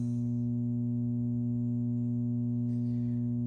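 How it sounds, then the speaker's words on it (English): Hallicrafters SX-117 radio receiver with a steady, loud low-pitched hum in SSB mode, constant and unwavering throughout with faint hiss above and no talking. "You can hear it's got a hum."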